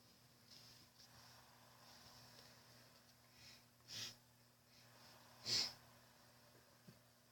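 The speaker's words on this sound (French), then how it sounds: "Désolé pour mes reniflements." A person sniffs twice, faint and brief, with a few seconds between, over a low steady hum during French commentary on a Chelsea football match. No one speaks.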